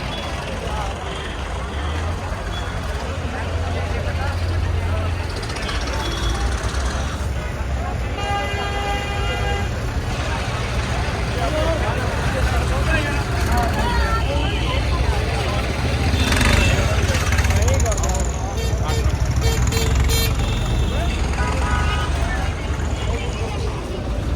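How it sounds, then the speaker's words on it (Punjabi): Tractors pulling trolleys arrive at a crowded religious gathering at Fatehgarh Sahib, a low engine rumble under a busy crowd with people talking and repeated horn toots from nearby vehicles. "ਆ ਸਾਡੇ ਟਰੈਕਟਰ ਆ ਰਹੇ ਬਾਈ"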